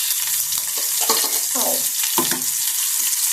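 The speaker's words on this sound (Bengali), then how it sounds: "হালকা একটু রসুনটাকে আমি সতে করে নেব। তারপর দিয়ে দিচ্ছি কাঁচামরিচ।" Garlic and green chilies sizzle steadily in a pan for a Nepali chicken chukauni, with a bright continuous crackle and a few louder stirring scrapes, close up and without any talk.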